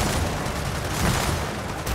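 Sustained heavy gunfire from the Gears of War 4 shooter, a dense loud fusillade of overlapping shots with no pauses and no voices.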